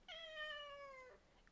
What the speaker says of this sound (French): Coucou, mon petit chat.